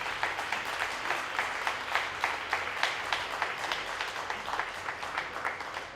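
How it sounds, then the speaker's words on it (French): An audience at a charity cabaret applauds Françoise, a sustained round of clapping with a rhythmic, pulsing beat, moderately near and steady throughout. "Mesdames, Messieurs, je vous demande d'applaudir Françoise."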